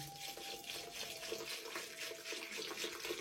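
River water poured into a 1.5-litre plastic bottle, a steady close gurgling splash of liquid filling the container, continuous and fairly quiet with no voices.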